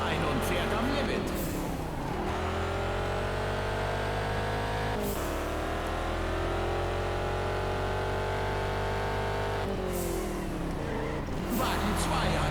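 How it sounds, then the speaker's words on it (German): Race cars roaring at full throttle with nitro boost in the Juiced 2 racing video game, engine drones rising and falling with gear shifts and sharp bursts, while someone talks over the game sound. "Wagen 2 setzt Nitro ein und fährt am Limit."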